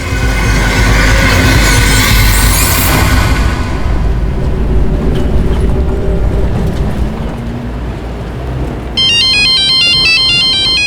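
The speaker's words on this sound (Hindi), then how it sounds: "रुको पापा, मैं आपको फोन उठा के देती हूँ।" A phone ringtone in a Hindi crime drama episode comes in during the last couple of seconds as a bright, repeating electronic melody. Before it, a loud, rumbling, train-like noise fills the scene, and no one speaks.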